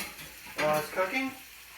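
Onions sizzle softly in a pan as they slowly brown and caramelize, with a brief stir and scrape of the pan, quiet and close.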